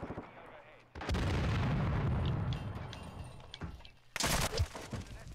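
Heavy gunfire and explosions in the Call of Duty Modern Warfare 2 video game, a loud sustained barrage of booming shots and blasts that eases slightly, then a sharp burst of fire near the end.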